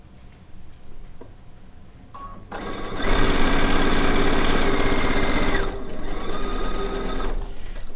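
Sewing machine piecing quilt blocks, starting with light clicks before a loud, continuous close motor hum and needle whir that slows slightly near the end.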